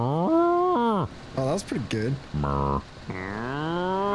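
A person imitates a cow with several drawn-out voiced moos in quick succession, close and loud, with a short spoken remark mixed in.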